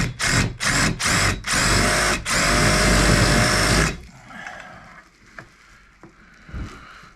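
An angle grinder cuts at a seized bolt on an engine block, loud and close in several short whining bursts before one sustained cut, then winding down into quieter scraping and taps.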